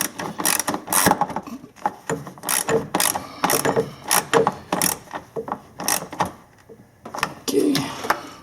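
A hand ratchet tightens the transmission engine mount on a 2003 Nissan Maxima, giving repeated bursts of sharp, close clicking in an uneven rhythm of quick strokes with brief pauses between them.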